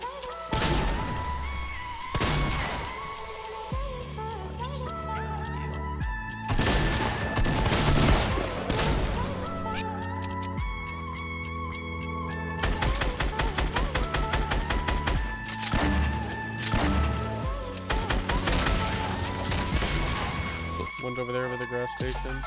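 Gunfire in Fortnite near a gas station, repeated loud bursts of rapid automatic shots and heavy single booms with short pauses between volleys, mixed with someone talking.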